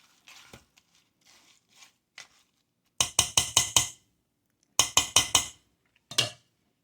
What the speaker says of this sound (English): Now I'm going to take and stir it just a little bit. With the hash browns being frozen